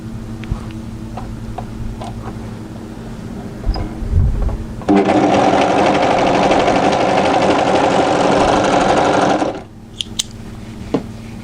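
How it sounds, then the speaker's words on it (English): An overlocker sews a seam on drop crotch joggers, running in one continuous steady whirring burst of about five seconds, loud and close, with quieter fabric handling before and after. "So place that right sides together and overlock a seam"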